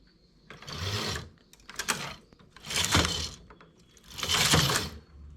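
A knitting machine carriage is pushed back and forth across the needle bed, making four loud, close whooshing, clattering passes with short quiet gaps between them.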